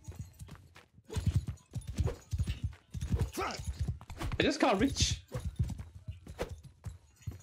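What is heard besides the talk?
horse hooves galloping in video game Mount & Blade Bannerlord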